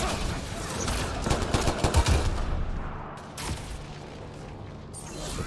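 Gunfire in the video game Mass Effect Andromeda: rapid volleys of close shots crackle in dense bursts, then thin out into scattered, sporadic shots over a hissing background.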